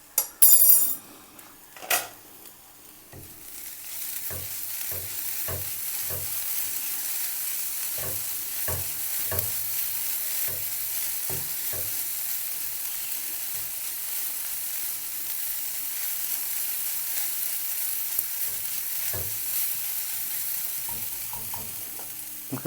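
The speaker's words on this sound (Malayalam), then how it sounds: "ഈ സമയത്ത് നമുക്ക് ഇതിലേക്കുള്ള ആവശ്യത്തിനുള്ള ഉപ്പും കൂടി ചേർത്ത് നന്നായിട്ട് ഒന്നും കൂടി ഇളക്കിയെടുക്കാം." Banana flower stir fry (thoran) being stirred in a pan with salt, soft sizzling under repeated light scraping and tapping of a utensil, with a few louder clatters at the start.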